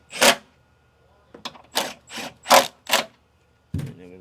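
A tool runs down the bolts on a Mercedes/Dodge Sprinter van in a series of short, sharp mechanical bursts of about a fifth of a second each, separated by brief silences, loud and close.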